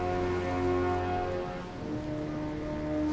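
Steady rain patters on surfaces in Batman: Arkham Origins Blackgate, a continuous hiss with underlying tonal hums and a low drone, even and moderately loud throughout with no voices.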